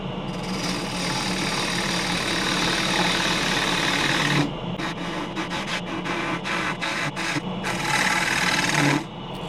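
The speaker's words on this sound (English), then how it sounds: "I switched to a 1/2-inch scraper for the bottom." A half-inch scraper cuts the bottom of a wooden lid spinning on a lathe, producing a near, steady rasping scrape over the motor's hum, broken by short pauses and pulsing contact, with no talk.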